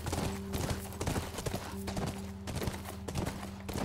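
Horse hooves clatter in a steady, fast clip-clop rhythm in the video game The Last of Us Part 1, set against a continuous low musical drone.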